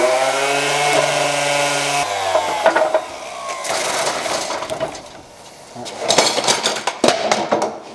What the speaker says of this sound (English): Just a quick sanding is what we're gonna do.